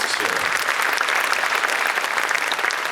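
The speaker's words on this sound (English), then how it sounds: "let's give a round of applause to the artists here" A crowd applauds performing artists after an Uttarakhand cultural performance at a Singapore event, with continuous, even clapping from a sizable audience for about three seconds.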